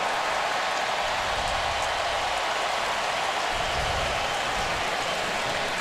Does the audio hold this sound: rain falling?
yes